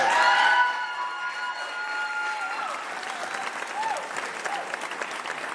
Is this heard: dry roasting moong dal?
no